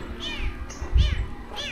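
A cat in a cemetery meows three times, each cry rising and falling, loud and close, with some low handling noise between them.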